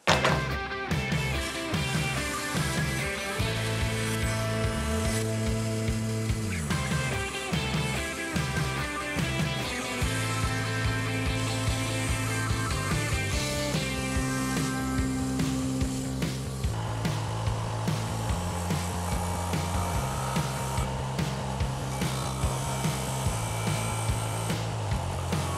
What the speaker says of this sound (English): we can take it over to the bandsaw and cut the outside